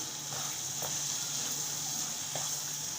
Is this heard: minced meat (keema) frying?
yes